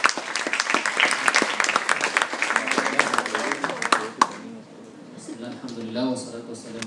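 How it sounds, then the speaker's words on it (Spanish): Audience at an interfaith and intercultural panel applauds to welcome a speaker with loud, dense clapping that stops after about four seconds, followed by quieter voices. "lo recibimos con un aplauso y escuchamos"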